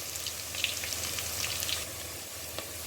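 Onion frying in a hot pot for Egusi soup gives a steady, dense sizzle and crackle that carries evenly throughout, with no talking over it.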